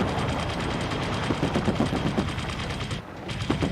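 A mech's weapon in MechWarrior 5 Mercenaries fires continuously in a rapid, steady stream of shots, with a brief dip in the burst before it resumes.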